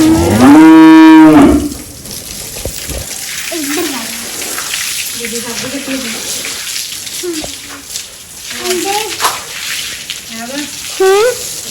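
Cattle on a Punjabi family farm give a loud, close moo near the start, followed by quieter, softer lowing calls scattered under someone talking.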